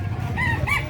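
A gamecock crows briefly and fairly loudly at a Saturday fighting-cock market near the public market in San Carlos City, with a low, busy crowd murmur underneath.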